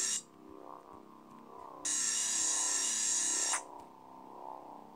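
A screw being driven into a sign in the video game There Is No Game makes a bright, sustained whirring buzz, like a small power screwdriver, that runs for under two seconds over a faint humming background.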